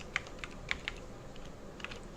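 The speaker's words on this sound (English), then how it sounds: "I will type print command and then I am just typing hello world" Keys tapped on a computer keyboard while entering a short Python print command, a few quiet separate clicks with a pause between them, close and alone.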